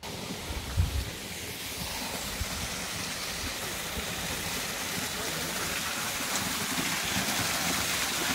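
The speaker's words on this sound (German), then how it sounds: "Jetzt gibt es gleich einen Wasserfall." Rushing water from a waterfall, a broad continuous roar that builds slightly louder over the span, with a few brief knocks early on and no clear talk.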